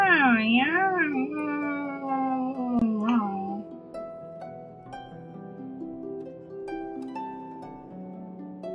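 A voice imitates a cat's meow with several drawn-out, wavering mews close to the microphone, followed by soft background music.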